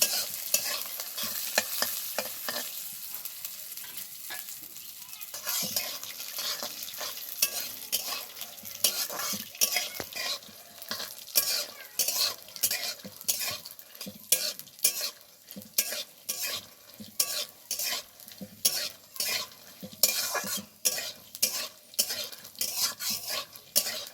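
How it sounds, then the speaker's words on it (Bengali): Flattened rice (chire) with curry leaves and raisins frying in a pan, stirred with a spatula in steady scraping clinks over a continuous close sizzle, no talking. "তারপরে সব কিছুকে খুব ভালোভাবে একসাথে ভেজে নেব"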